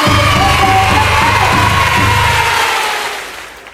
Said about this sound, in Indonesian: nanti mohon diberikan tepuk tangan yang paling meriah